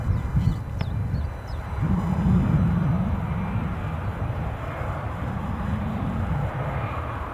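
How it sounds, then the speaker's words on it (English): KLM jet airliner taking off at Edinburgh airport, a broad low engine roar that swells and holds steady at a distance, with faint bird calls early on. "I'll finish the show with the KLM takeoff"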